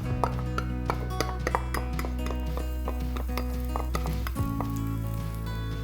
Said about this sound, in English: We got 2 tablespoons of olive oil that you want to add to your skillet. All right, we're gonna throw our garlic in here.